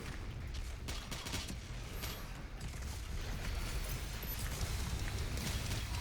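Continuous dense roar of the BFG 10,000 firing in Doom Eternal, a loud sustained crackling barrage with rumbling low end that holds steady and swells slightly over the stretch, with no voices.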